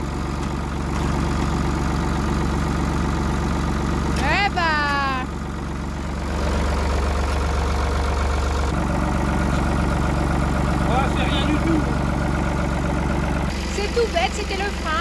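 A farm tractor engine idles steadily after a repair to a jammed brake pedal, a low constant rumble running throughout while someone speaks over it at times.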